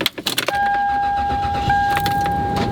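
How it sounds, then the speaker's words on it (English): Inside a 1997 Toyota 4Runner, a few quick clicks and rustles give way to a steady, high electronic chime tone that holds for a couple of seconds under faint cabin noise, with no one speaking. "today we'll be taking my daily driver, my 97 Toyota 4Runner"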